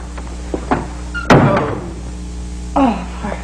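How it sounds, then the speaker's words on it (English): A door shuts with a single solid thunk at close range in an indoor room, with a brief voice before it and another short voice afterward. "Don't slam the door."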